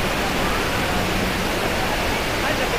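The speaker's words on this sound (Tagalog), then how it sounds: "Ang lakas ng bagsak ng water Macalagan, my God." Macalagan waterfall at Green Falls in Tago, Surigao del Sur, gives a dense, continuous rushing roar of falling water, steady and loud without a break.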